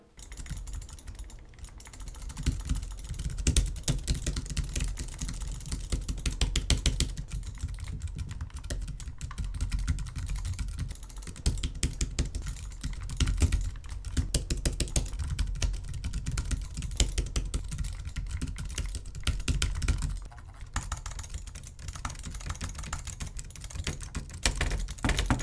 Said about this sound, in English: Let's take a look at our first example, tapping and clicking.